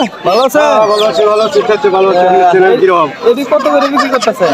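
Chickens cluck and call at a busy traditional poultry market in Dhara Bazaar, their loud, close, overlapping cries mixing with steady nearby talking throughout.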